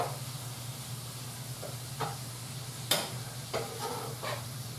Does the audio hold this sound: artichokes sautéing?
yes